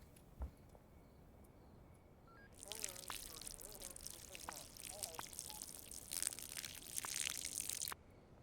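Water is poured onto plants in the video game Schedule I, a bright, steady trickling stream lasting several seconds after a brief click, with faint voice fragments underneath.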